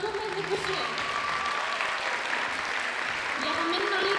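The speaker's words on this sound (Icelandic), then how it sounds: "gefið dómarinn gott klapp" An audience gives sustained, dense applause for the judges at a STÍLL 2026 stage event, with voices talking and calling out over the clapping.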